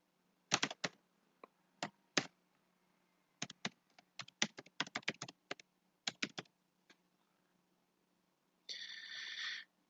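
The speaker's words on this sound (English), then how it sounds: "Here you have to type your email." Computer keyboard typing an email address, light close key taps in quick irregular clusters with short pauses, fairly quiet, ending in a brief higher whirring sound.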